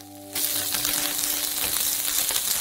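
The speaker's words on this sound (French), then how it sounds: "Et faites frire les oignons jusqu'à ce qu'ils soient complètement transparents" Onions sizzle and fry in olive oil in a pan on the stove, a steady dense crackle that starts abruptly after a brief quiet moment and continues close and loud.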